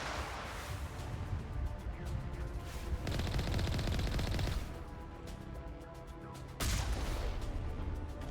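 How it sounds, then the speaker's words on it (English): Artillery fire booms and cracks in the video game Mass Effect, on the planet Virmire, with repeated heavy bursts and crashes over a dense, continuous battle din, swelling loudest midway and again near the end. "There's the artillery, Shepard."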